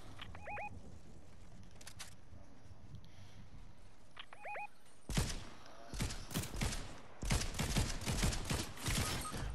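Sniper rifle fire in the video game Fortnite: a quiet stretch, then a burst of sharp, loud, close shots cracking in quick irregular succession through the second half.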